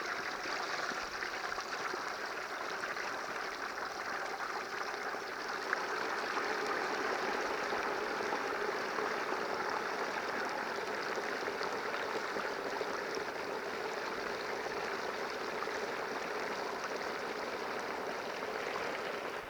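A whole turkey sinks into hot oil in a fryer, setting off a steady, dense bubbling hiss that roars on evenly and loudly for a long stretch, close by with no talking.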